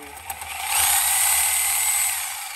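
A power tool cuts through the bushing shell of a 1972 De Tomaso Pantera control arm with a close, loud, high-pitched whine. It swells in the middle of the short burst and eases slightly toward the end.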